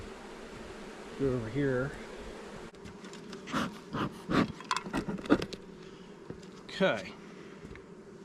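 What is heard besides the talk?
nurse honey bees buzzing at hive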